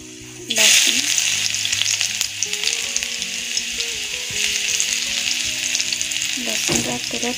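Garlic frying in hot oil, a loud dense sizzle that bursts in abruptly and holds steady, with occasional utensil clinks and stirring underneath.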